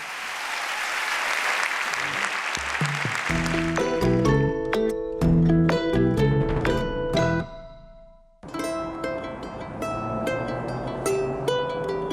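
Applause from a concert audience at the TEMA Foundation 25th anniversary broadcast rings out for a few seconds, then gives way to orchestral music with sustained tones, briefly dips to near silence, and resumes.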